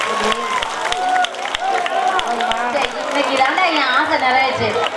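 Lively crowd chatter and voices with scattered hand claps at a Tamil village comedy performance, clapping mixed under heavy talk and shouting.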